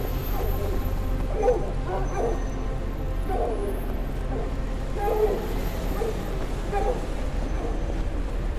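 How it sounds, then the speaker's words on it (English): Dogs in a horror video game yelp, whimper and bark in short clustered bursts over a constant low droning ambience, fairly distant and muffled, recurring across the stretch. "Is that the dogs? Are they alive?"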